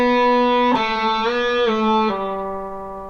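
Slow guitar intro section from a lesson, played as a few sustained notes that change pitch at steady intervals through pull-offs, each note ringing clearly and alone.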